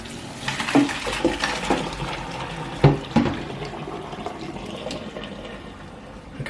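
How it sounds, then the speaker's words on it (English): Pasta water drained from a pot into a kitchen sink: a steady rushing splash of pouring water with a few louder clunks of the pot against the basin near the middle. "then we're going to drain this in the sink"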